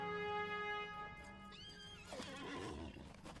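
A horse in Lord of the Rings Online lets out a loud, drawn-out whinny that rises and trails off, layered over music and game ambience.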